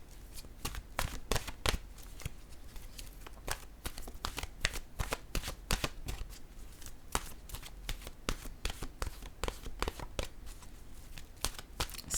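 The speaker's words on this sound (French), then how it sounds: "Je vais piger une carte sur une carte de mon oracle de l'âme intuitive." Oracle cards shuffled by hand before one is drawn, a steady run of quick riffling flutters and soft slaps that keeps going with no talk.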